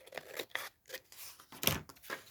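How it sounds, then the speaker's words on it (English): Scissors snip through paper for a Halloween journal collage in a quick series of crisp, close cuts with short pauses between them, quiet and with no talk. "Let me just cut that with scissors."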